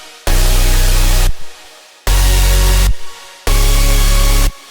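Three sustained chord stacks layering bass and super saw synths, each held about a second with short gaps where a modulated reverb tail swells; loud, dense, tightly compressed and alone.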